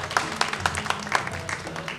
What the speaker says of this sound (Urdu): خواتین و حضرات، آپ کی بھرپور تالیاں